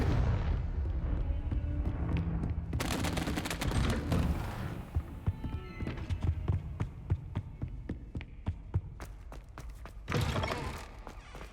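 Confringo blasting-curse explosions from Hogwarts Legacy, a dense run of booming blasts and crackling impacts over a low rumble, with sharp repeated hits through the middle and a fresh loud burst near the end.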